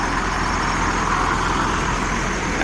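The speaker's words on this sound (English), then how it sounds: "Gonna be some diesel noise." A diesel truck rolls by at the Nassau cruise port in the Bahamas, a loud, steady broadband engine rumble that holds close and constant with no voices.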